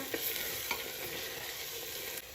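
Sliced onions fry in a pan for an Assamese-style mutton curry, a continuous close sizzle with a couple of soft stirring scrapes and no voices.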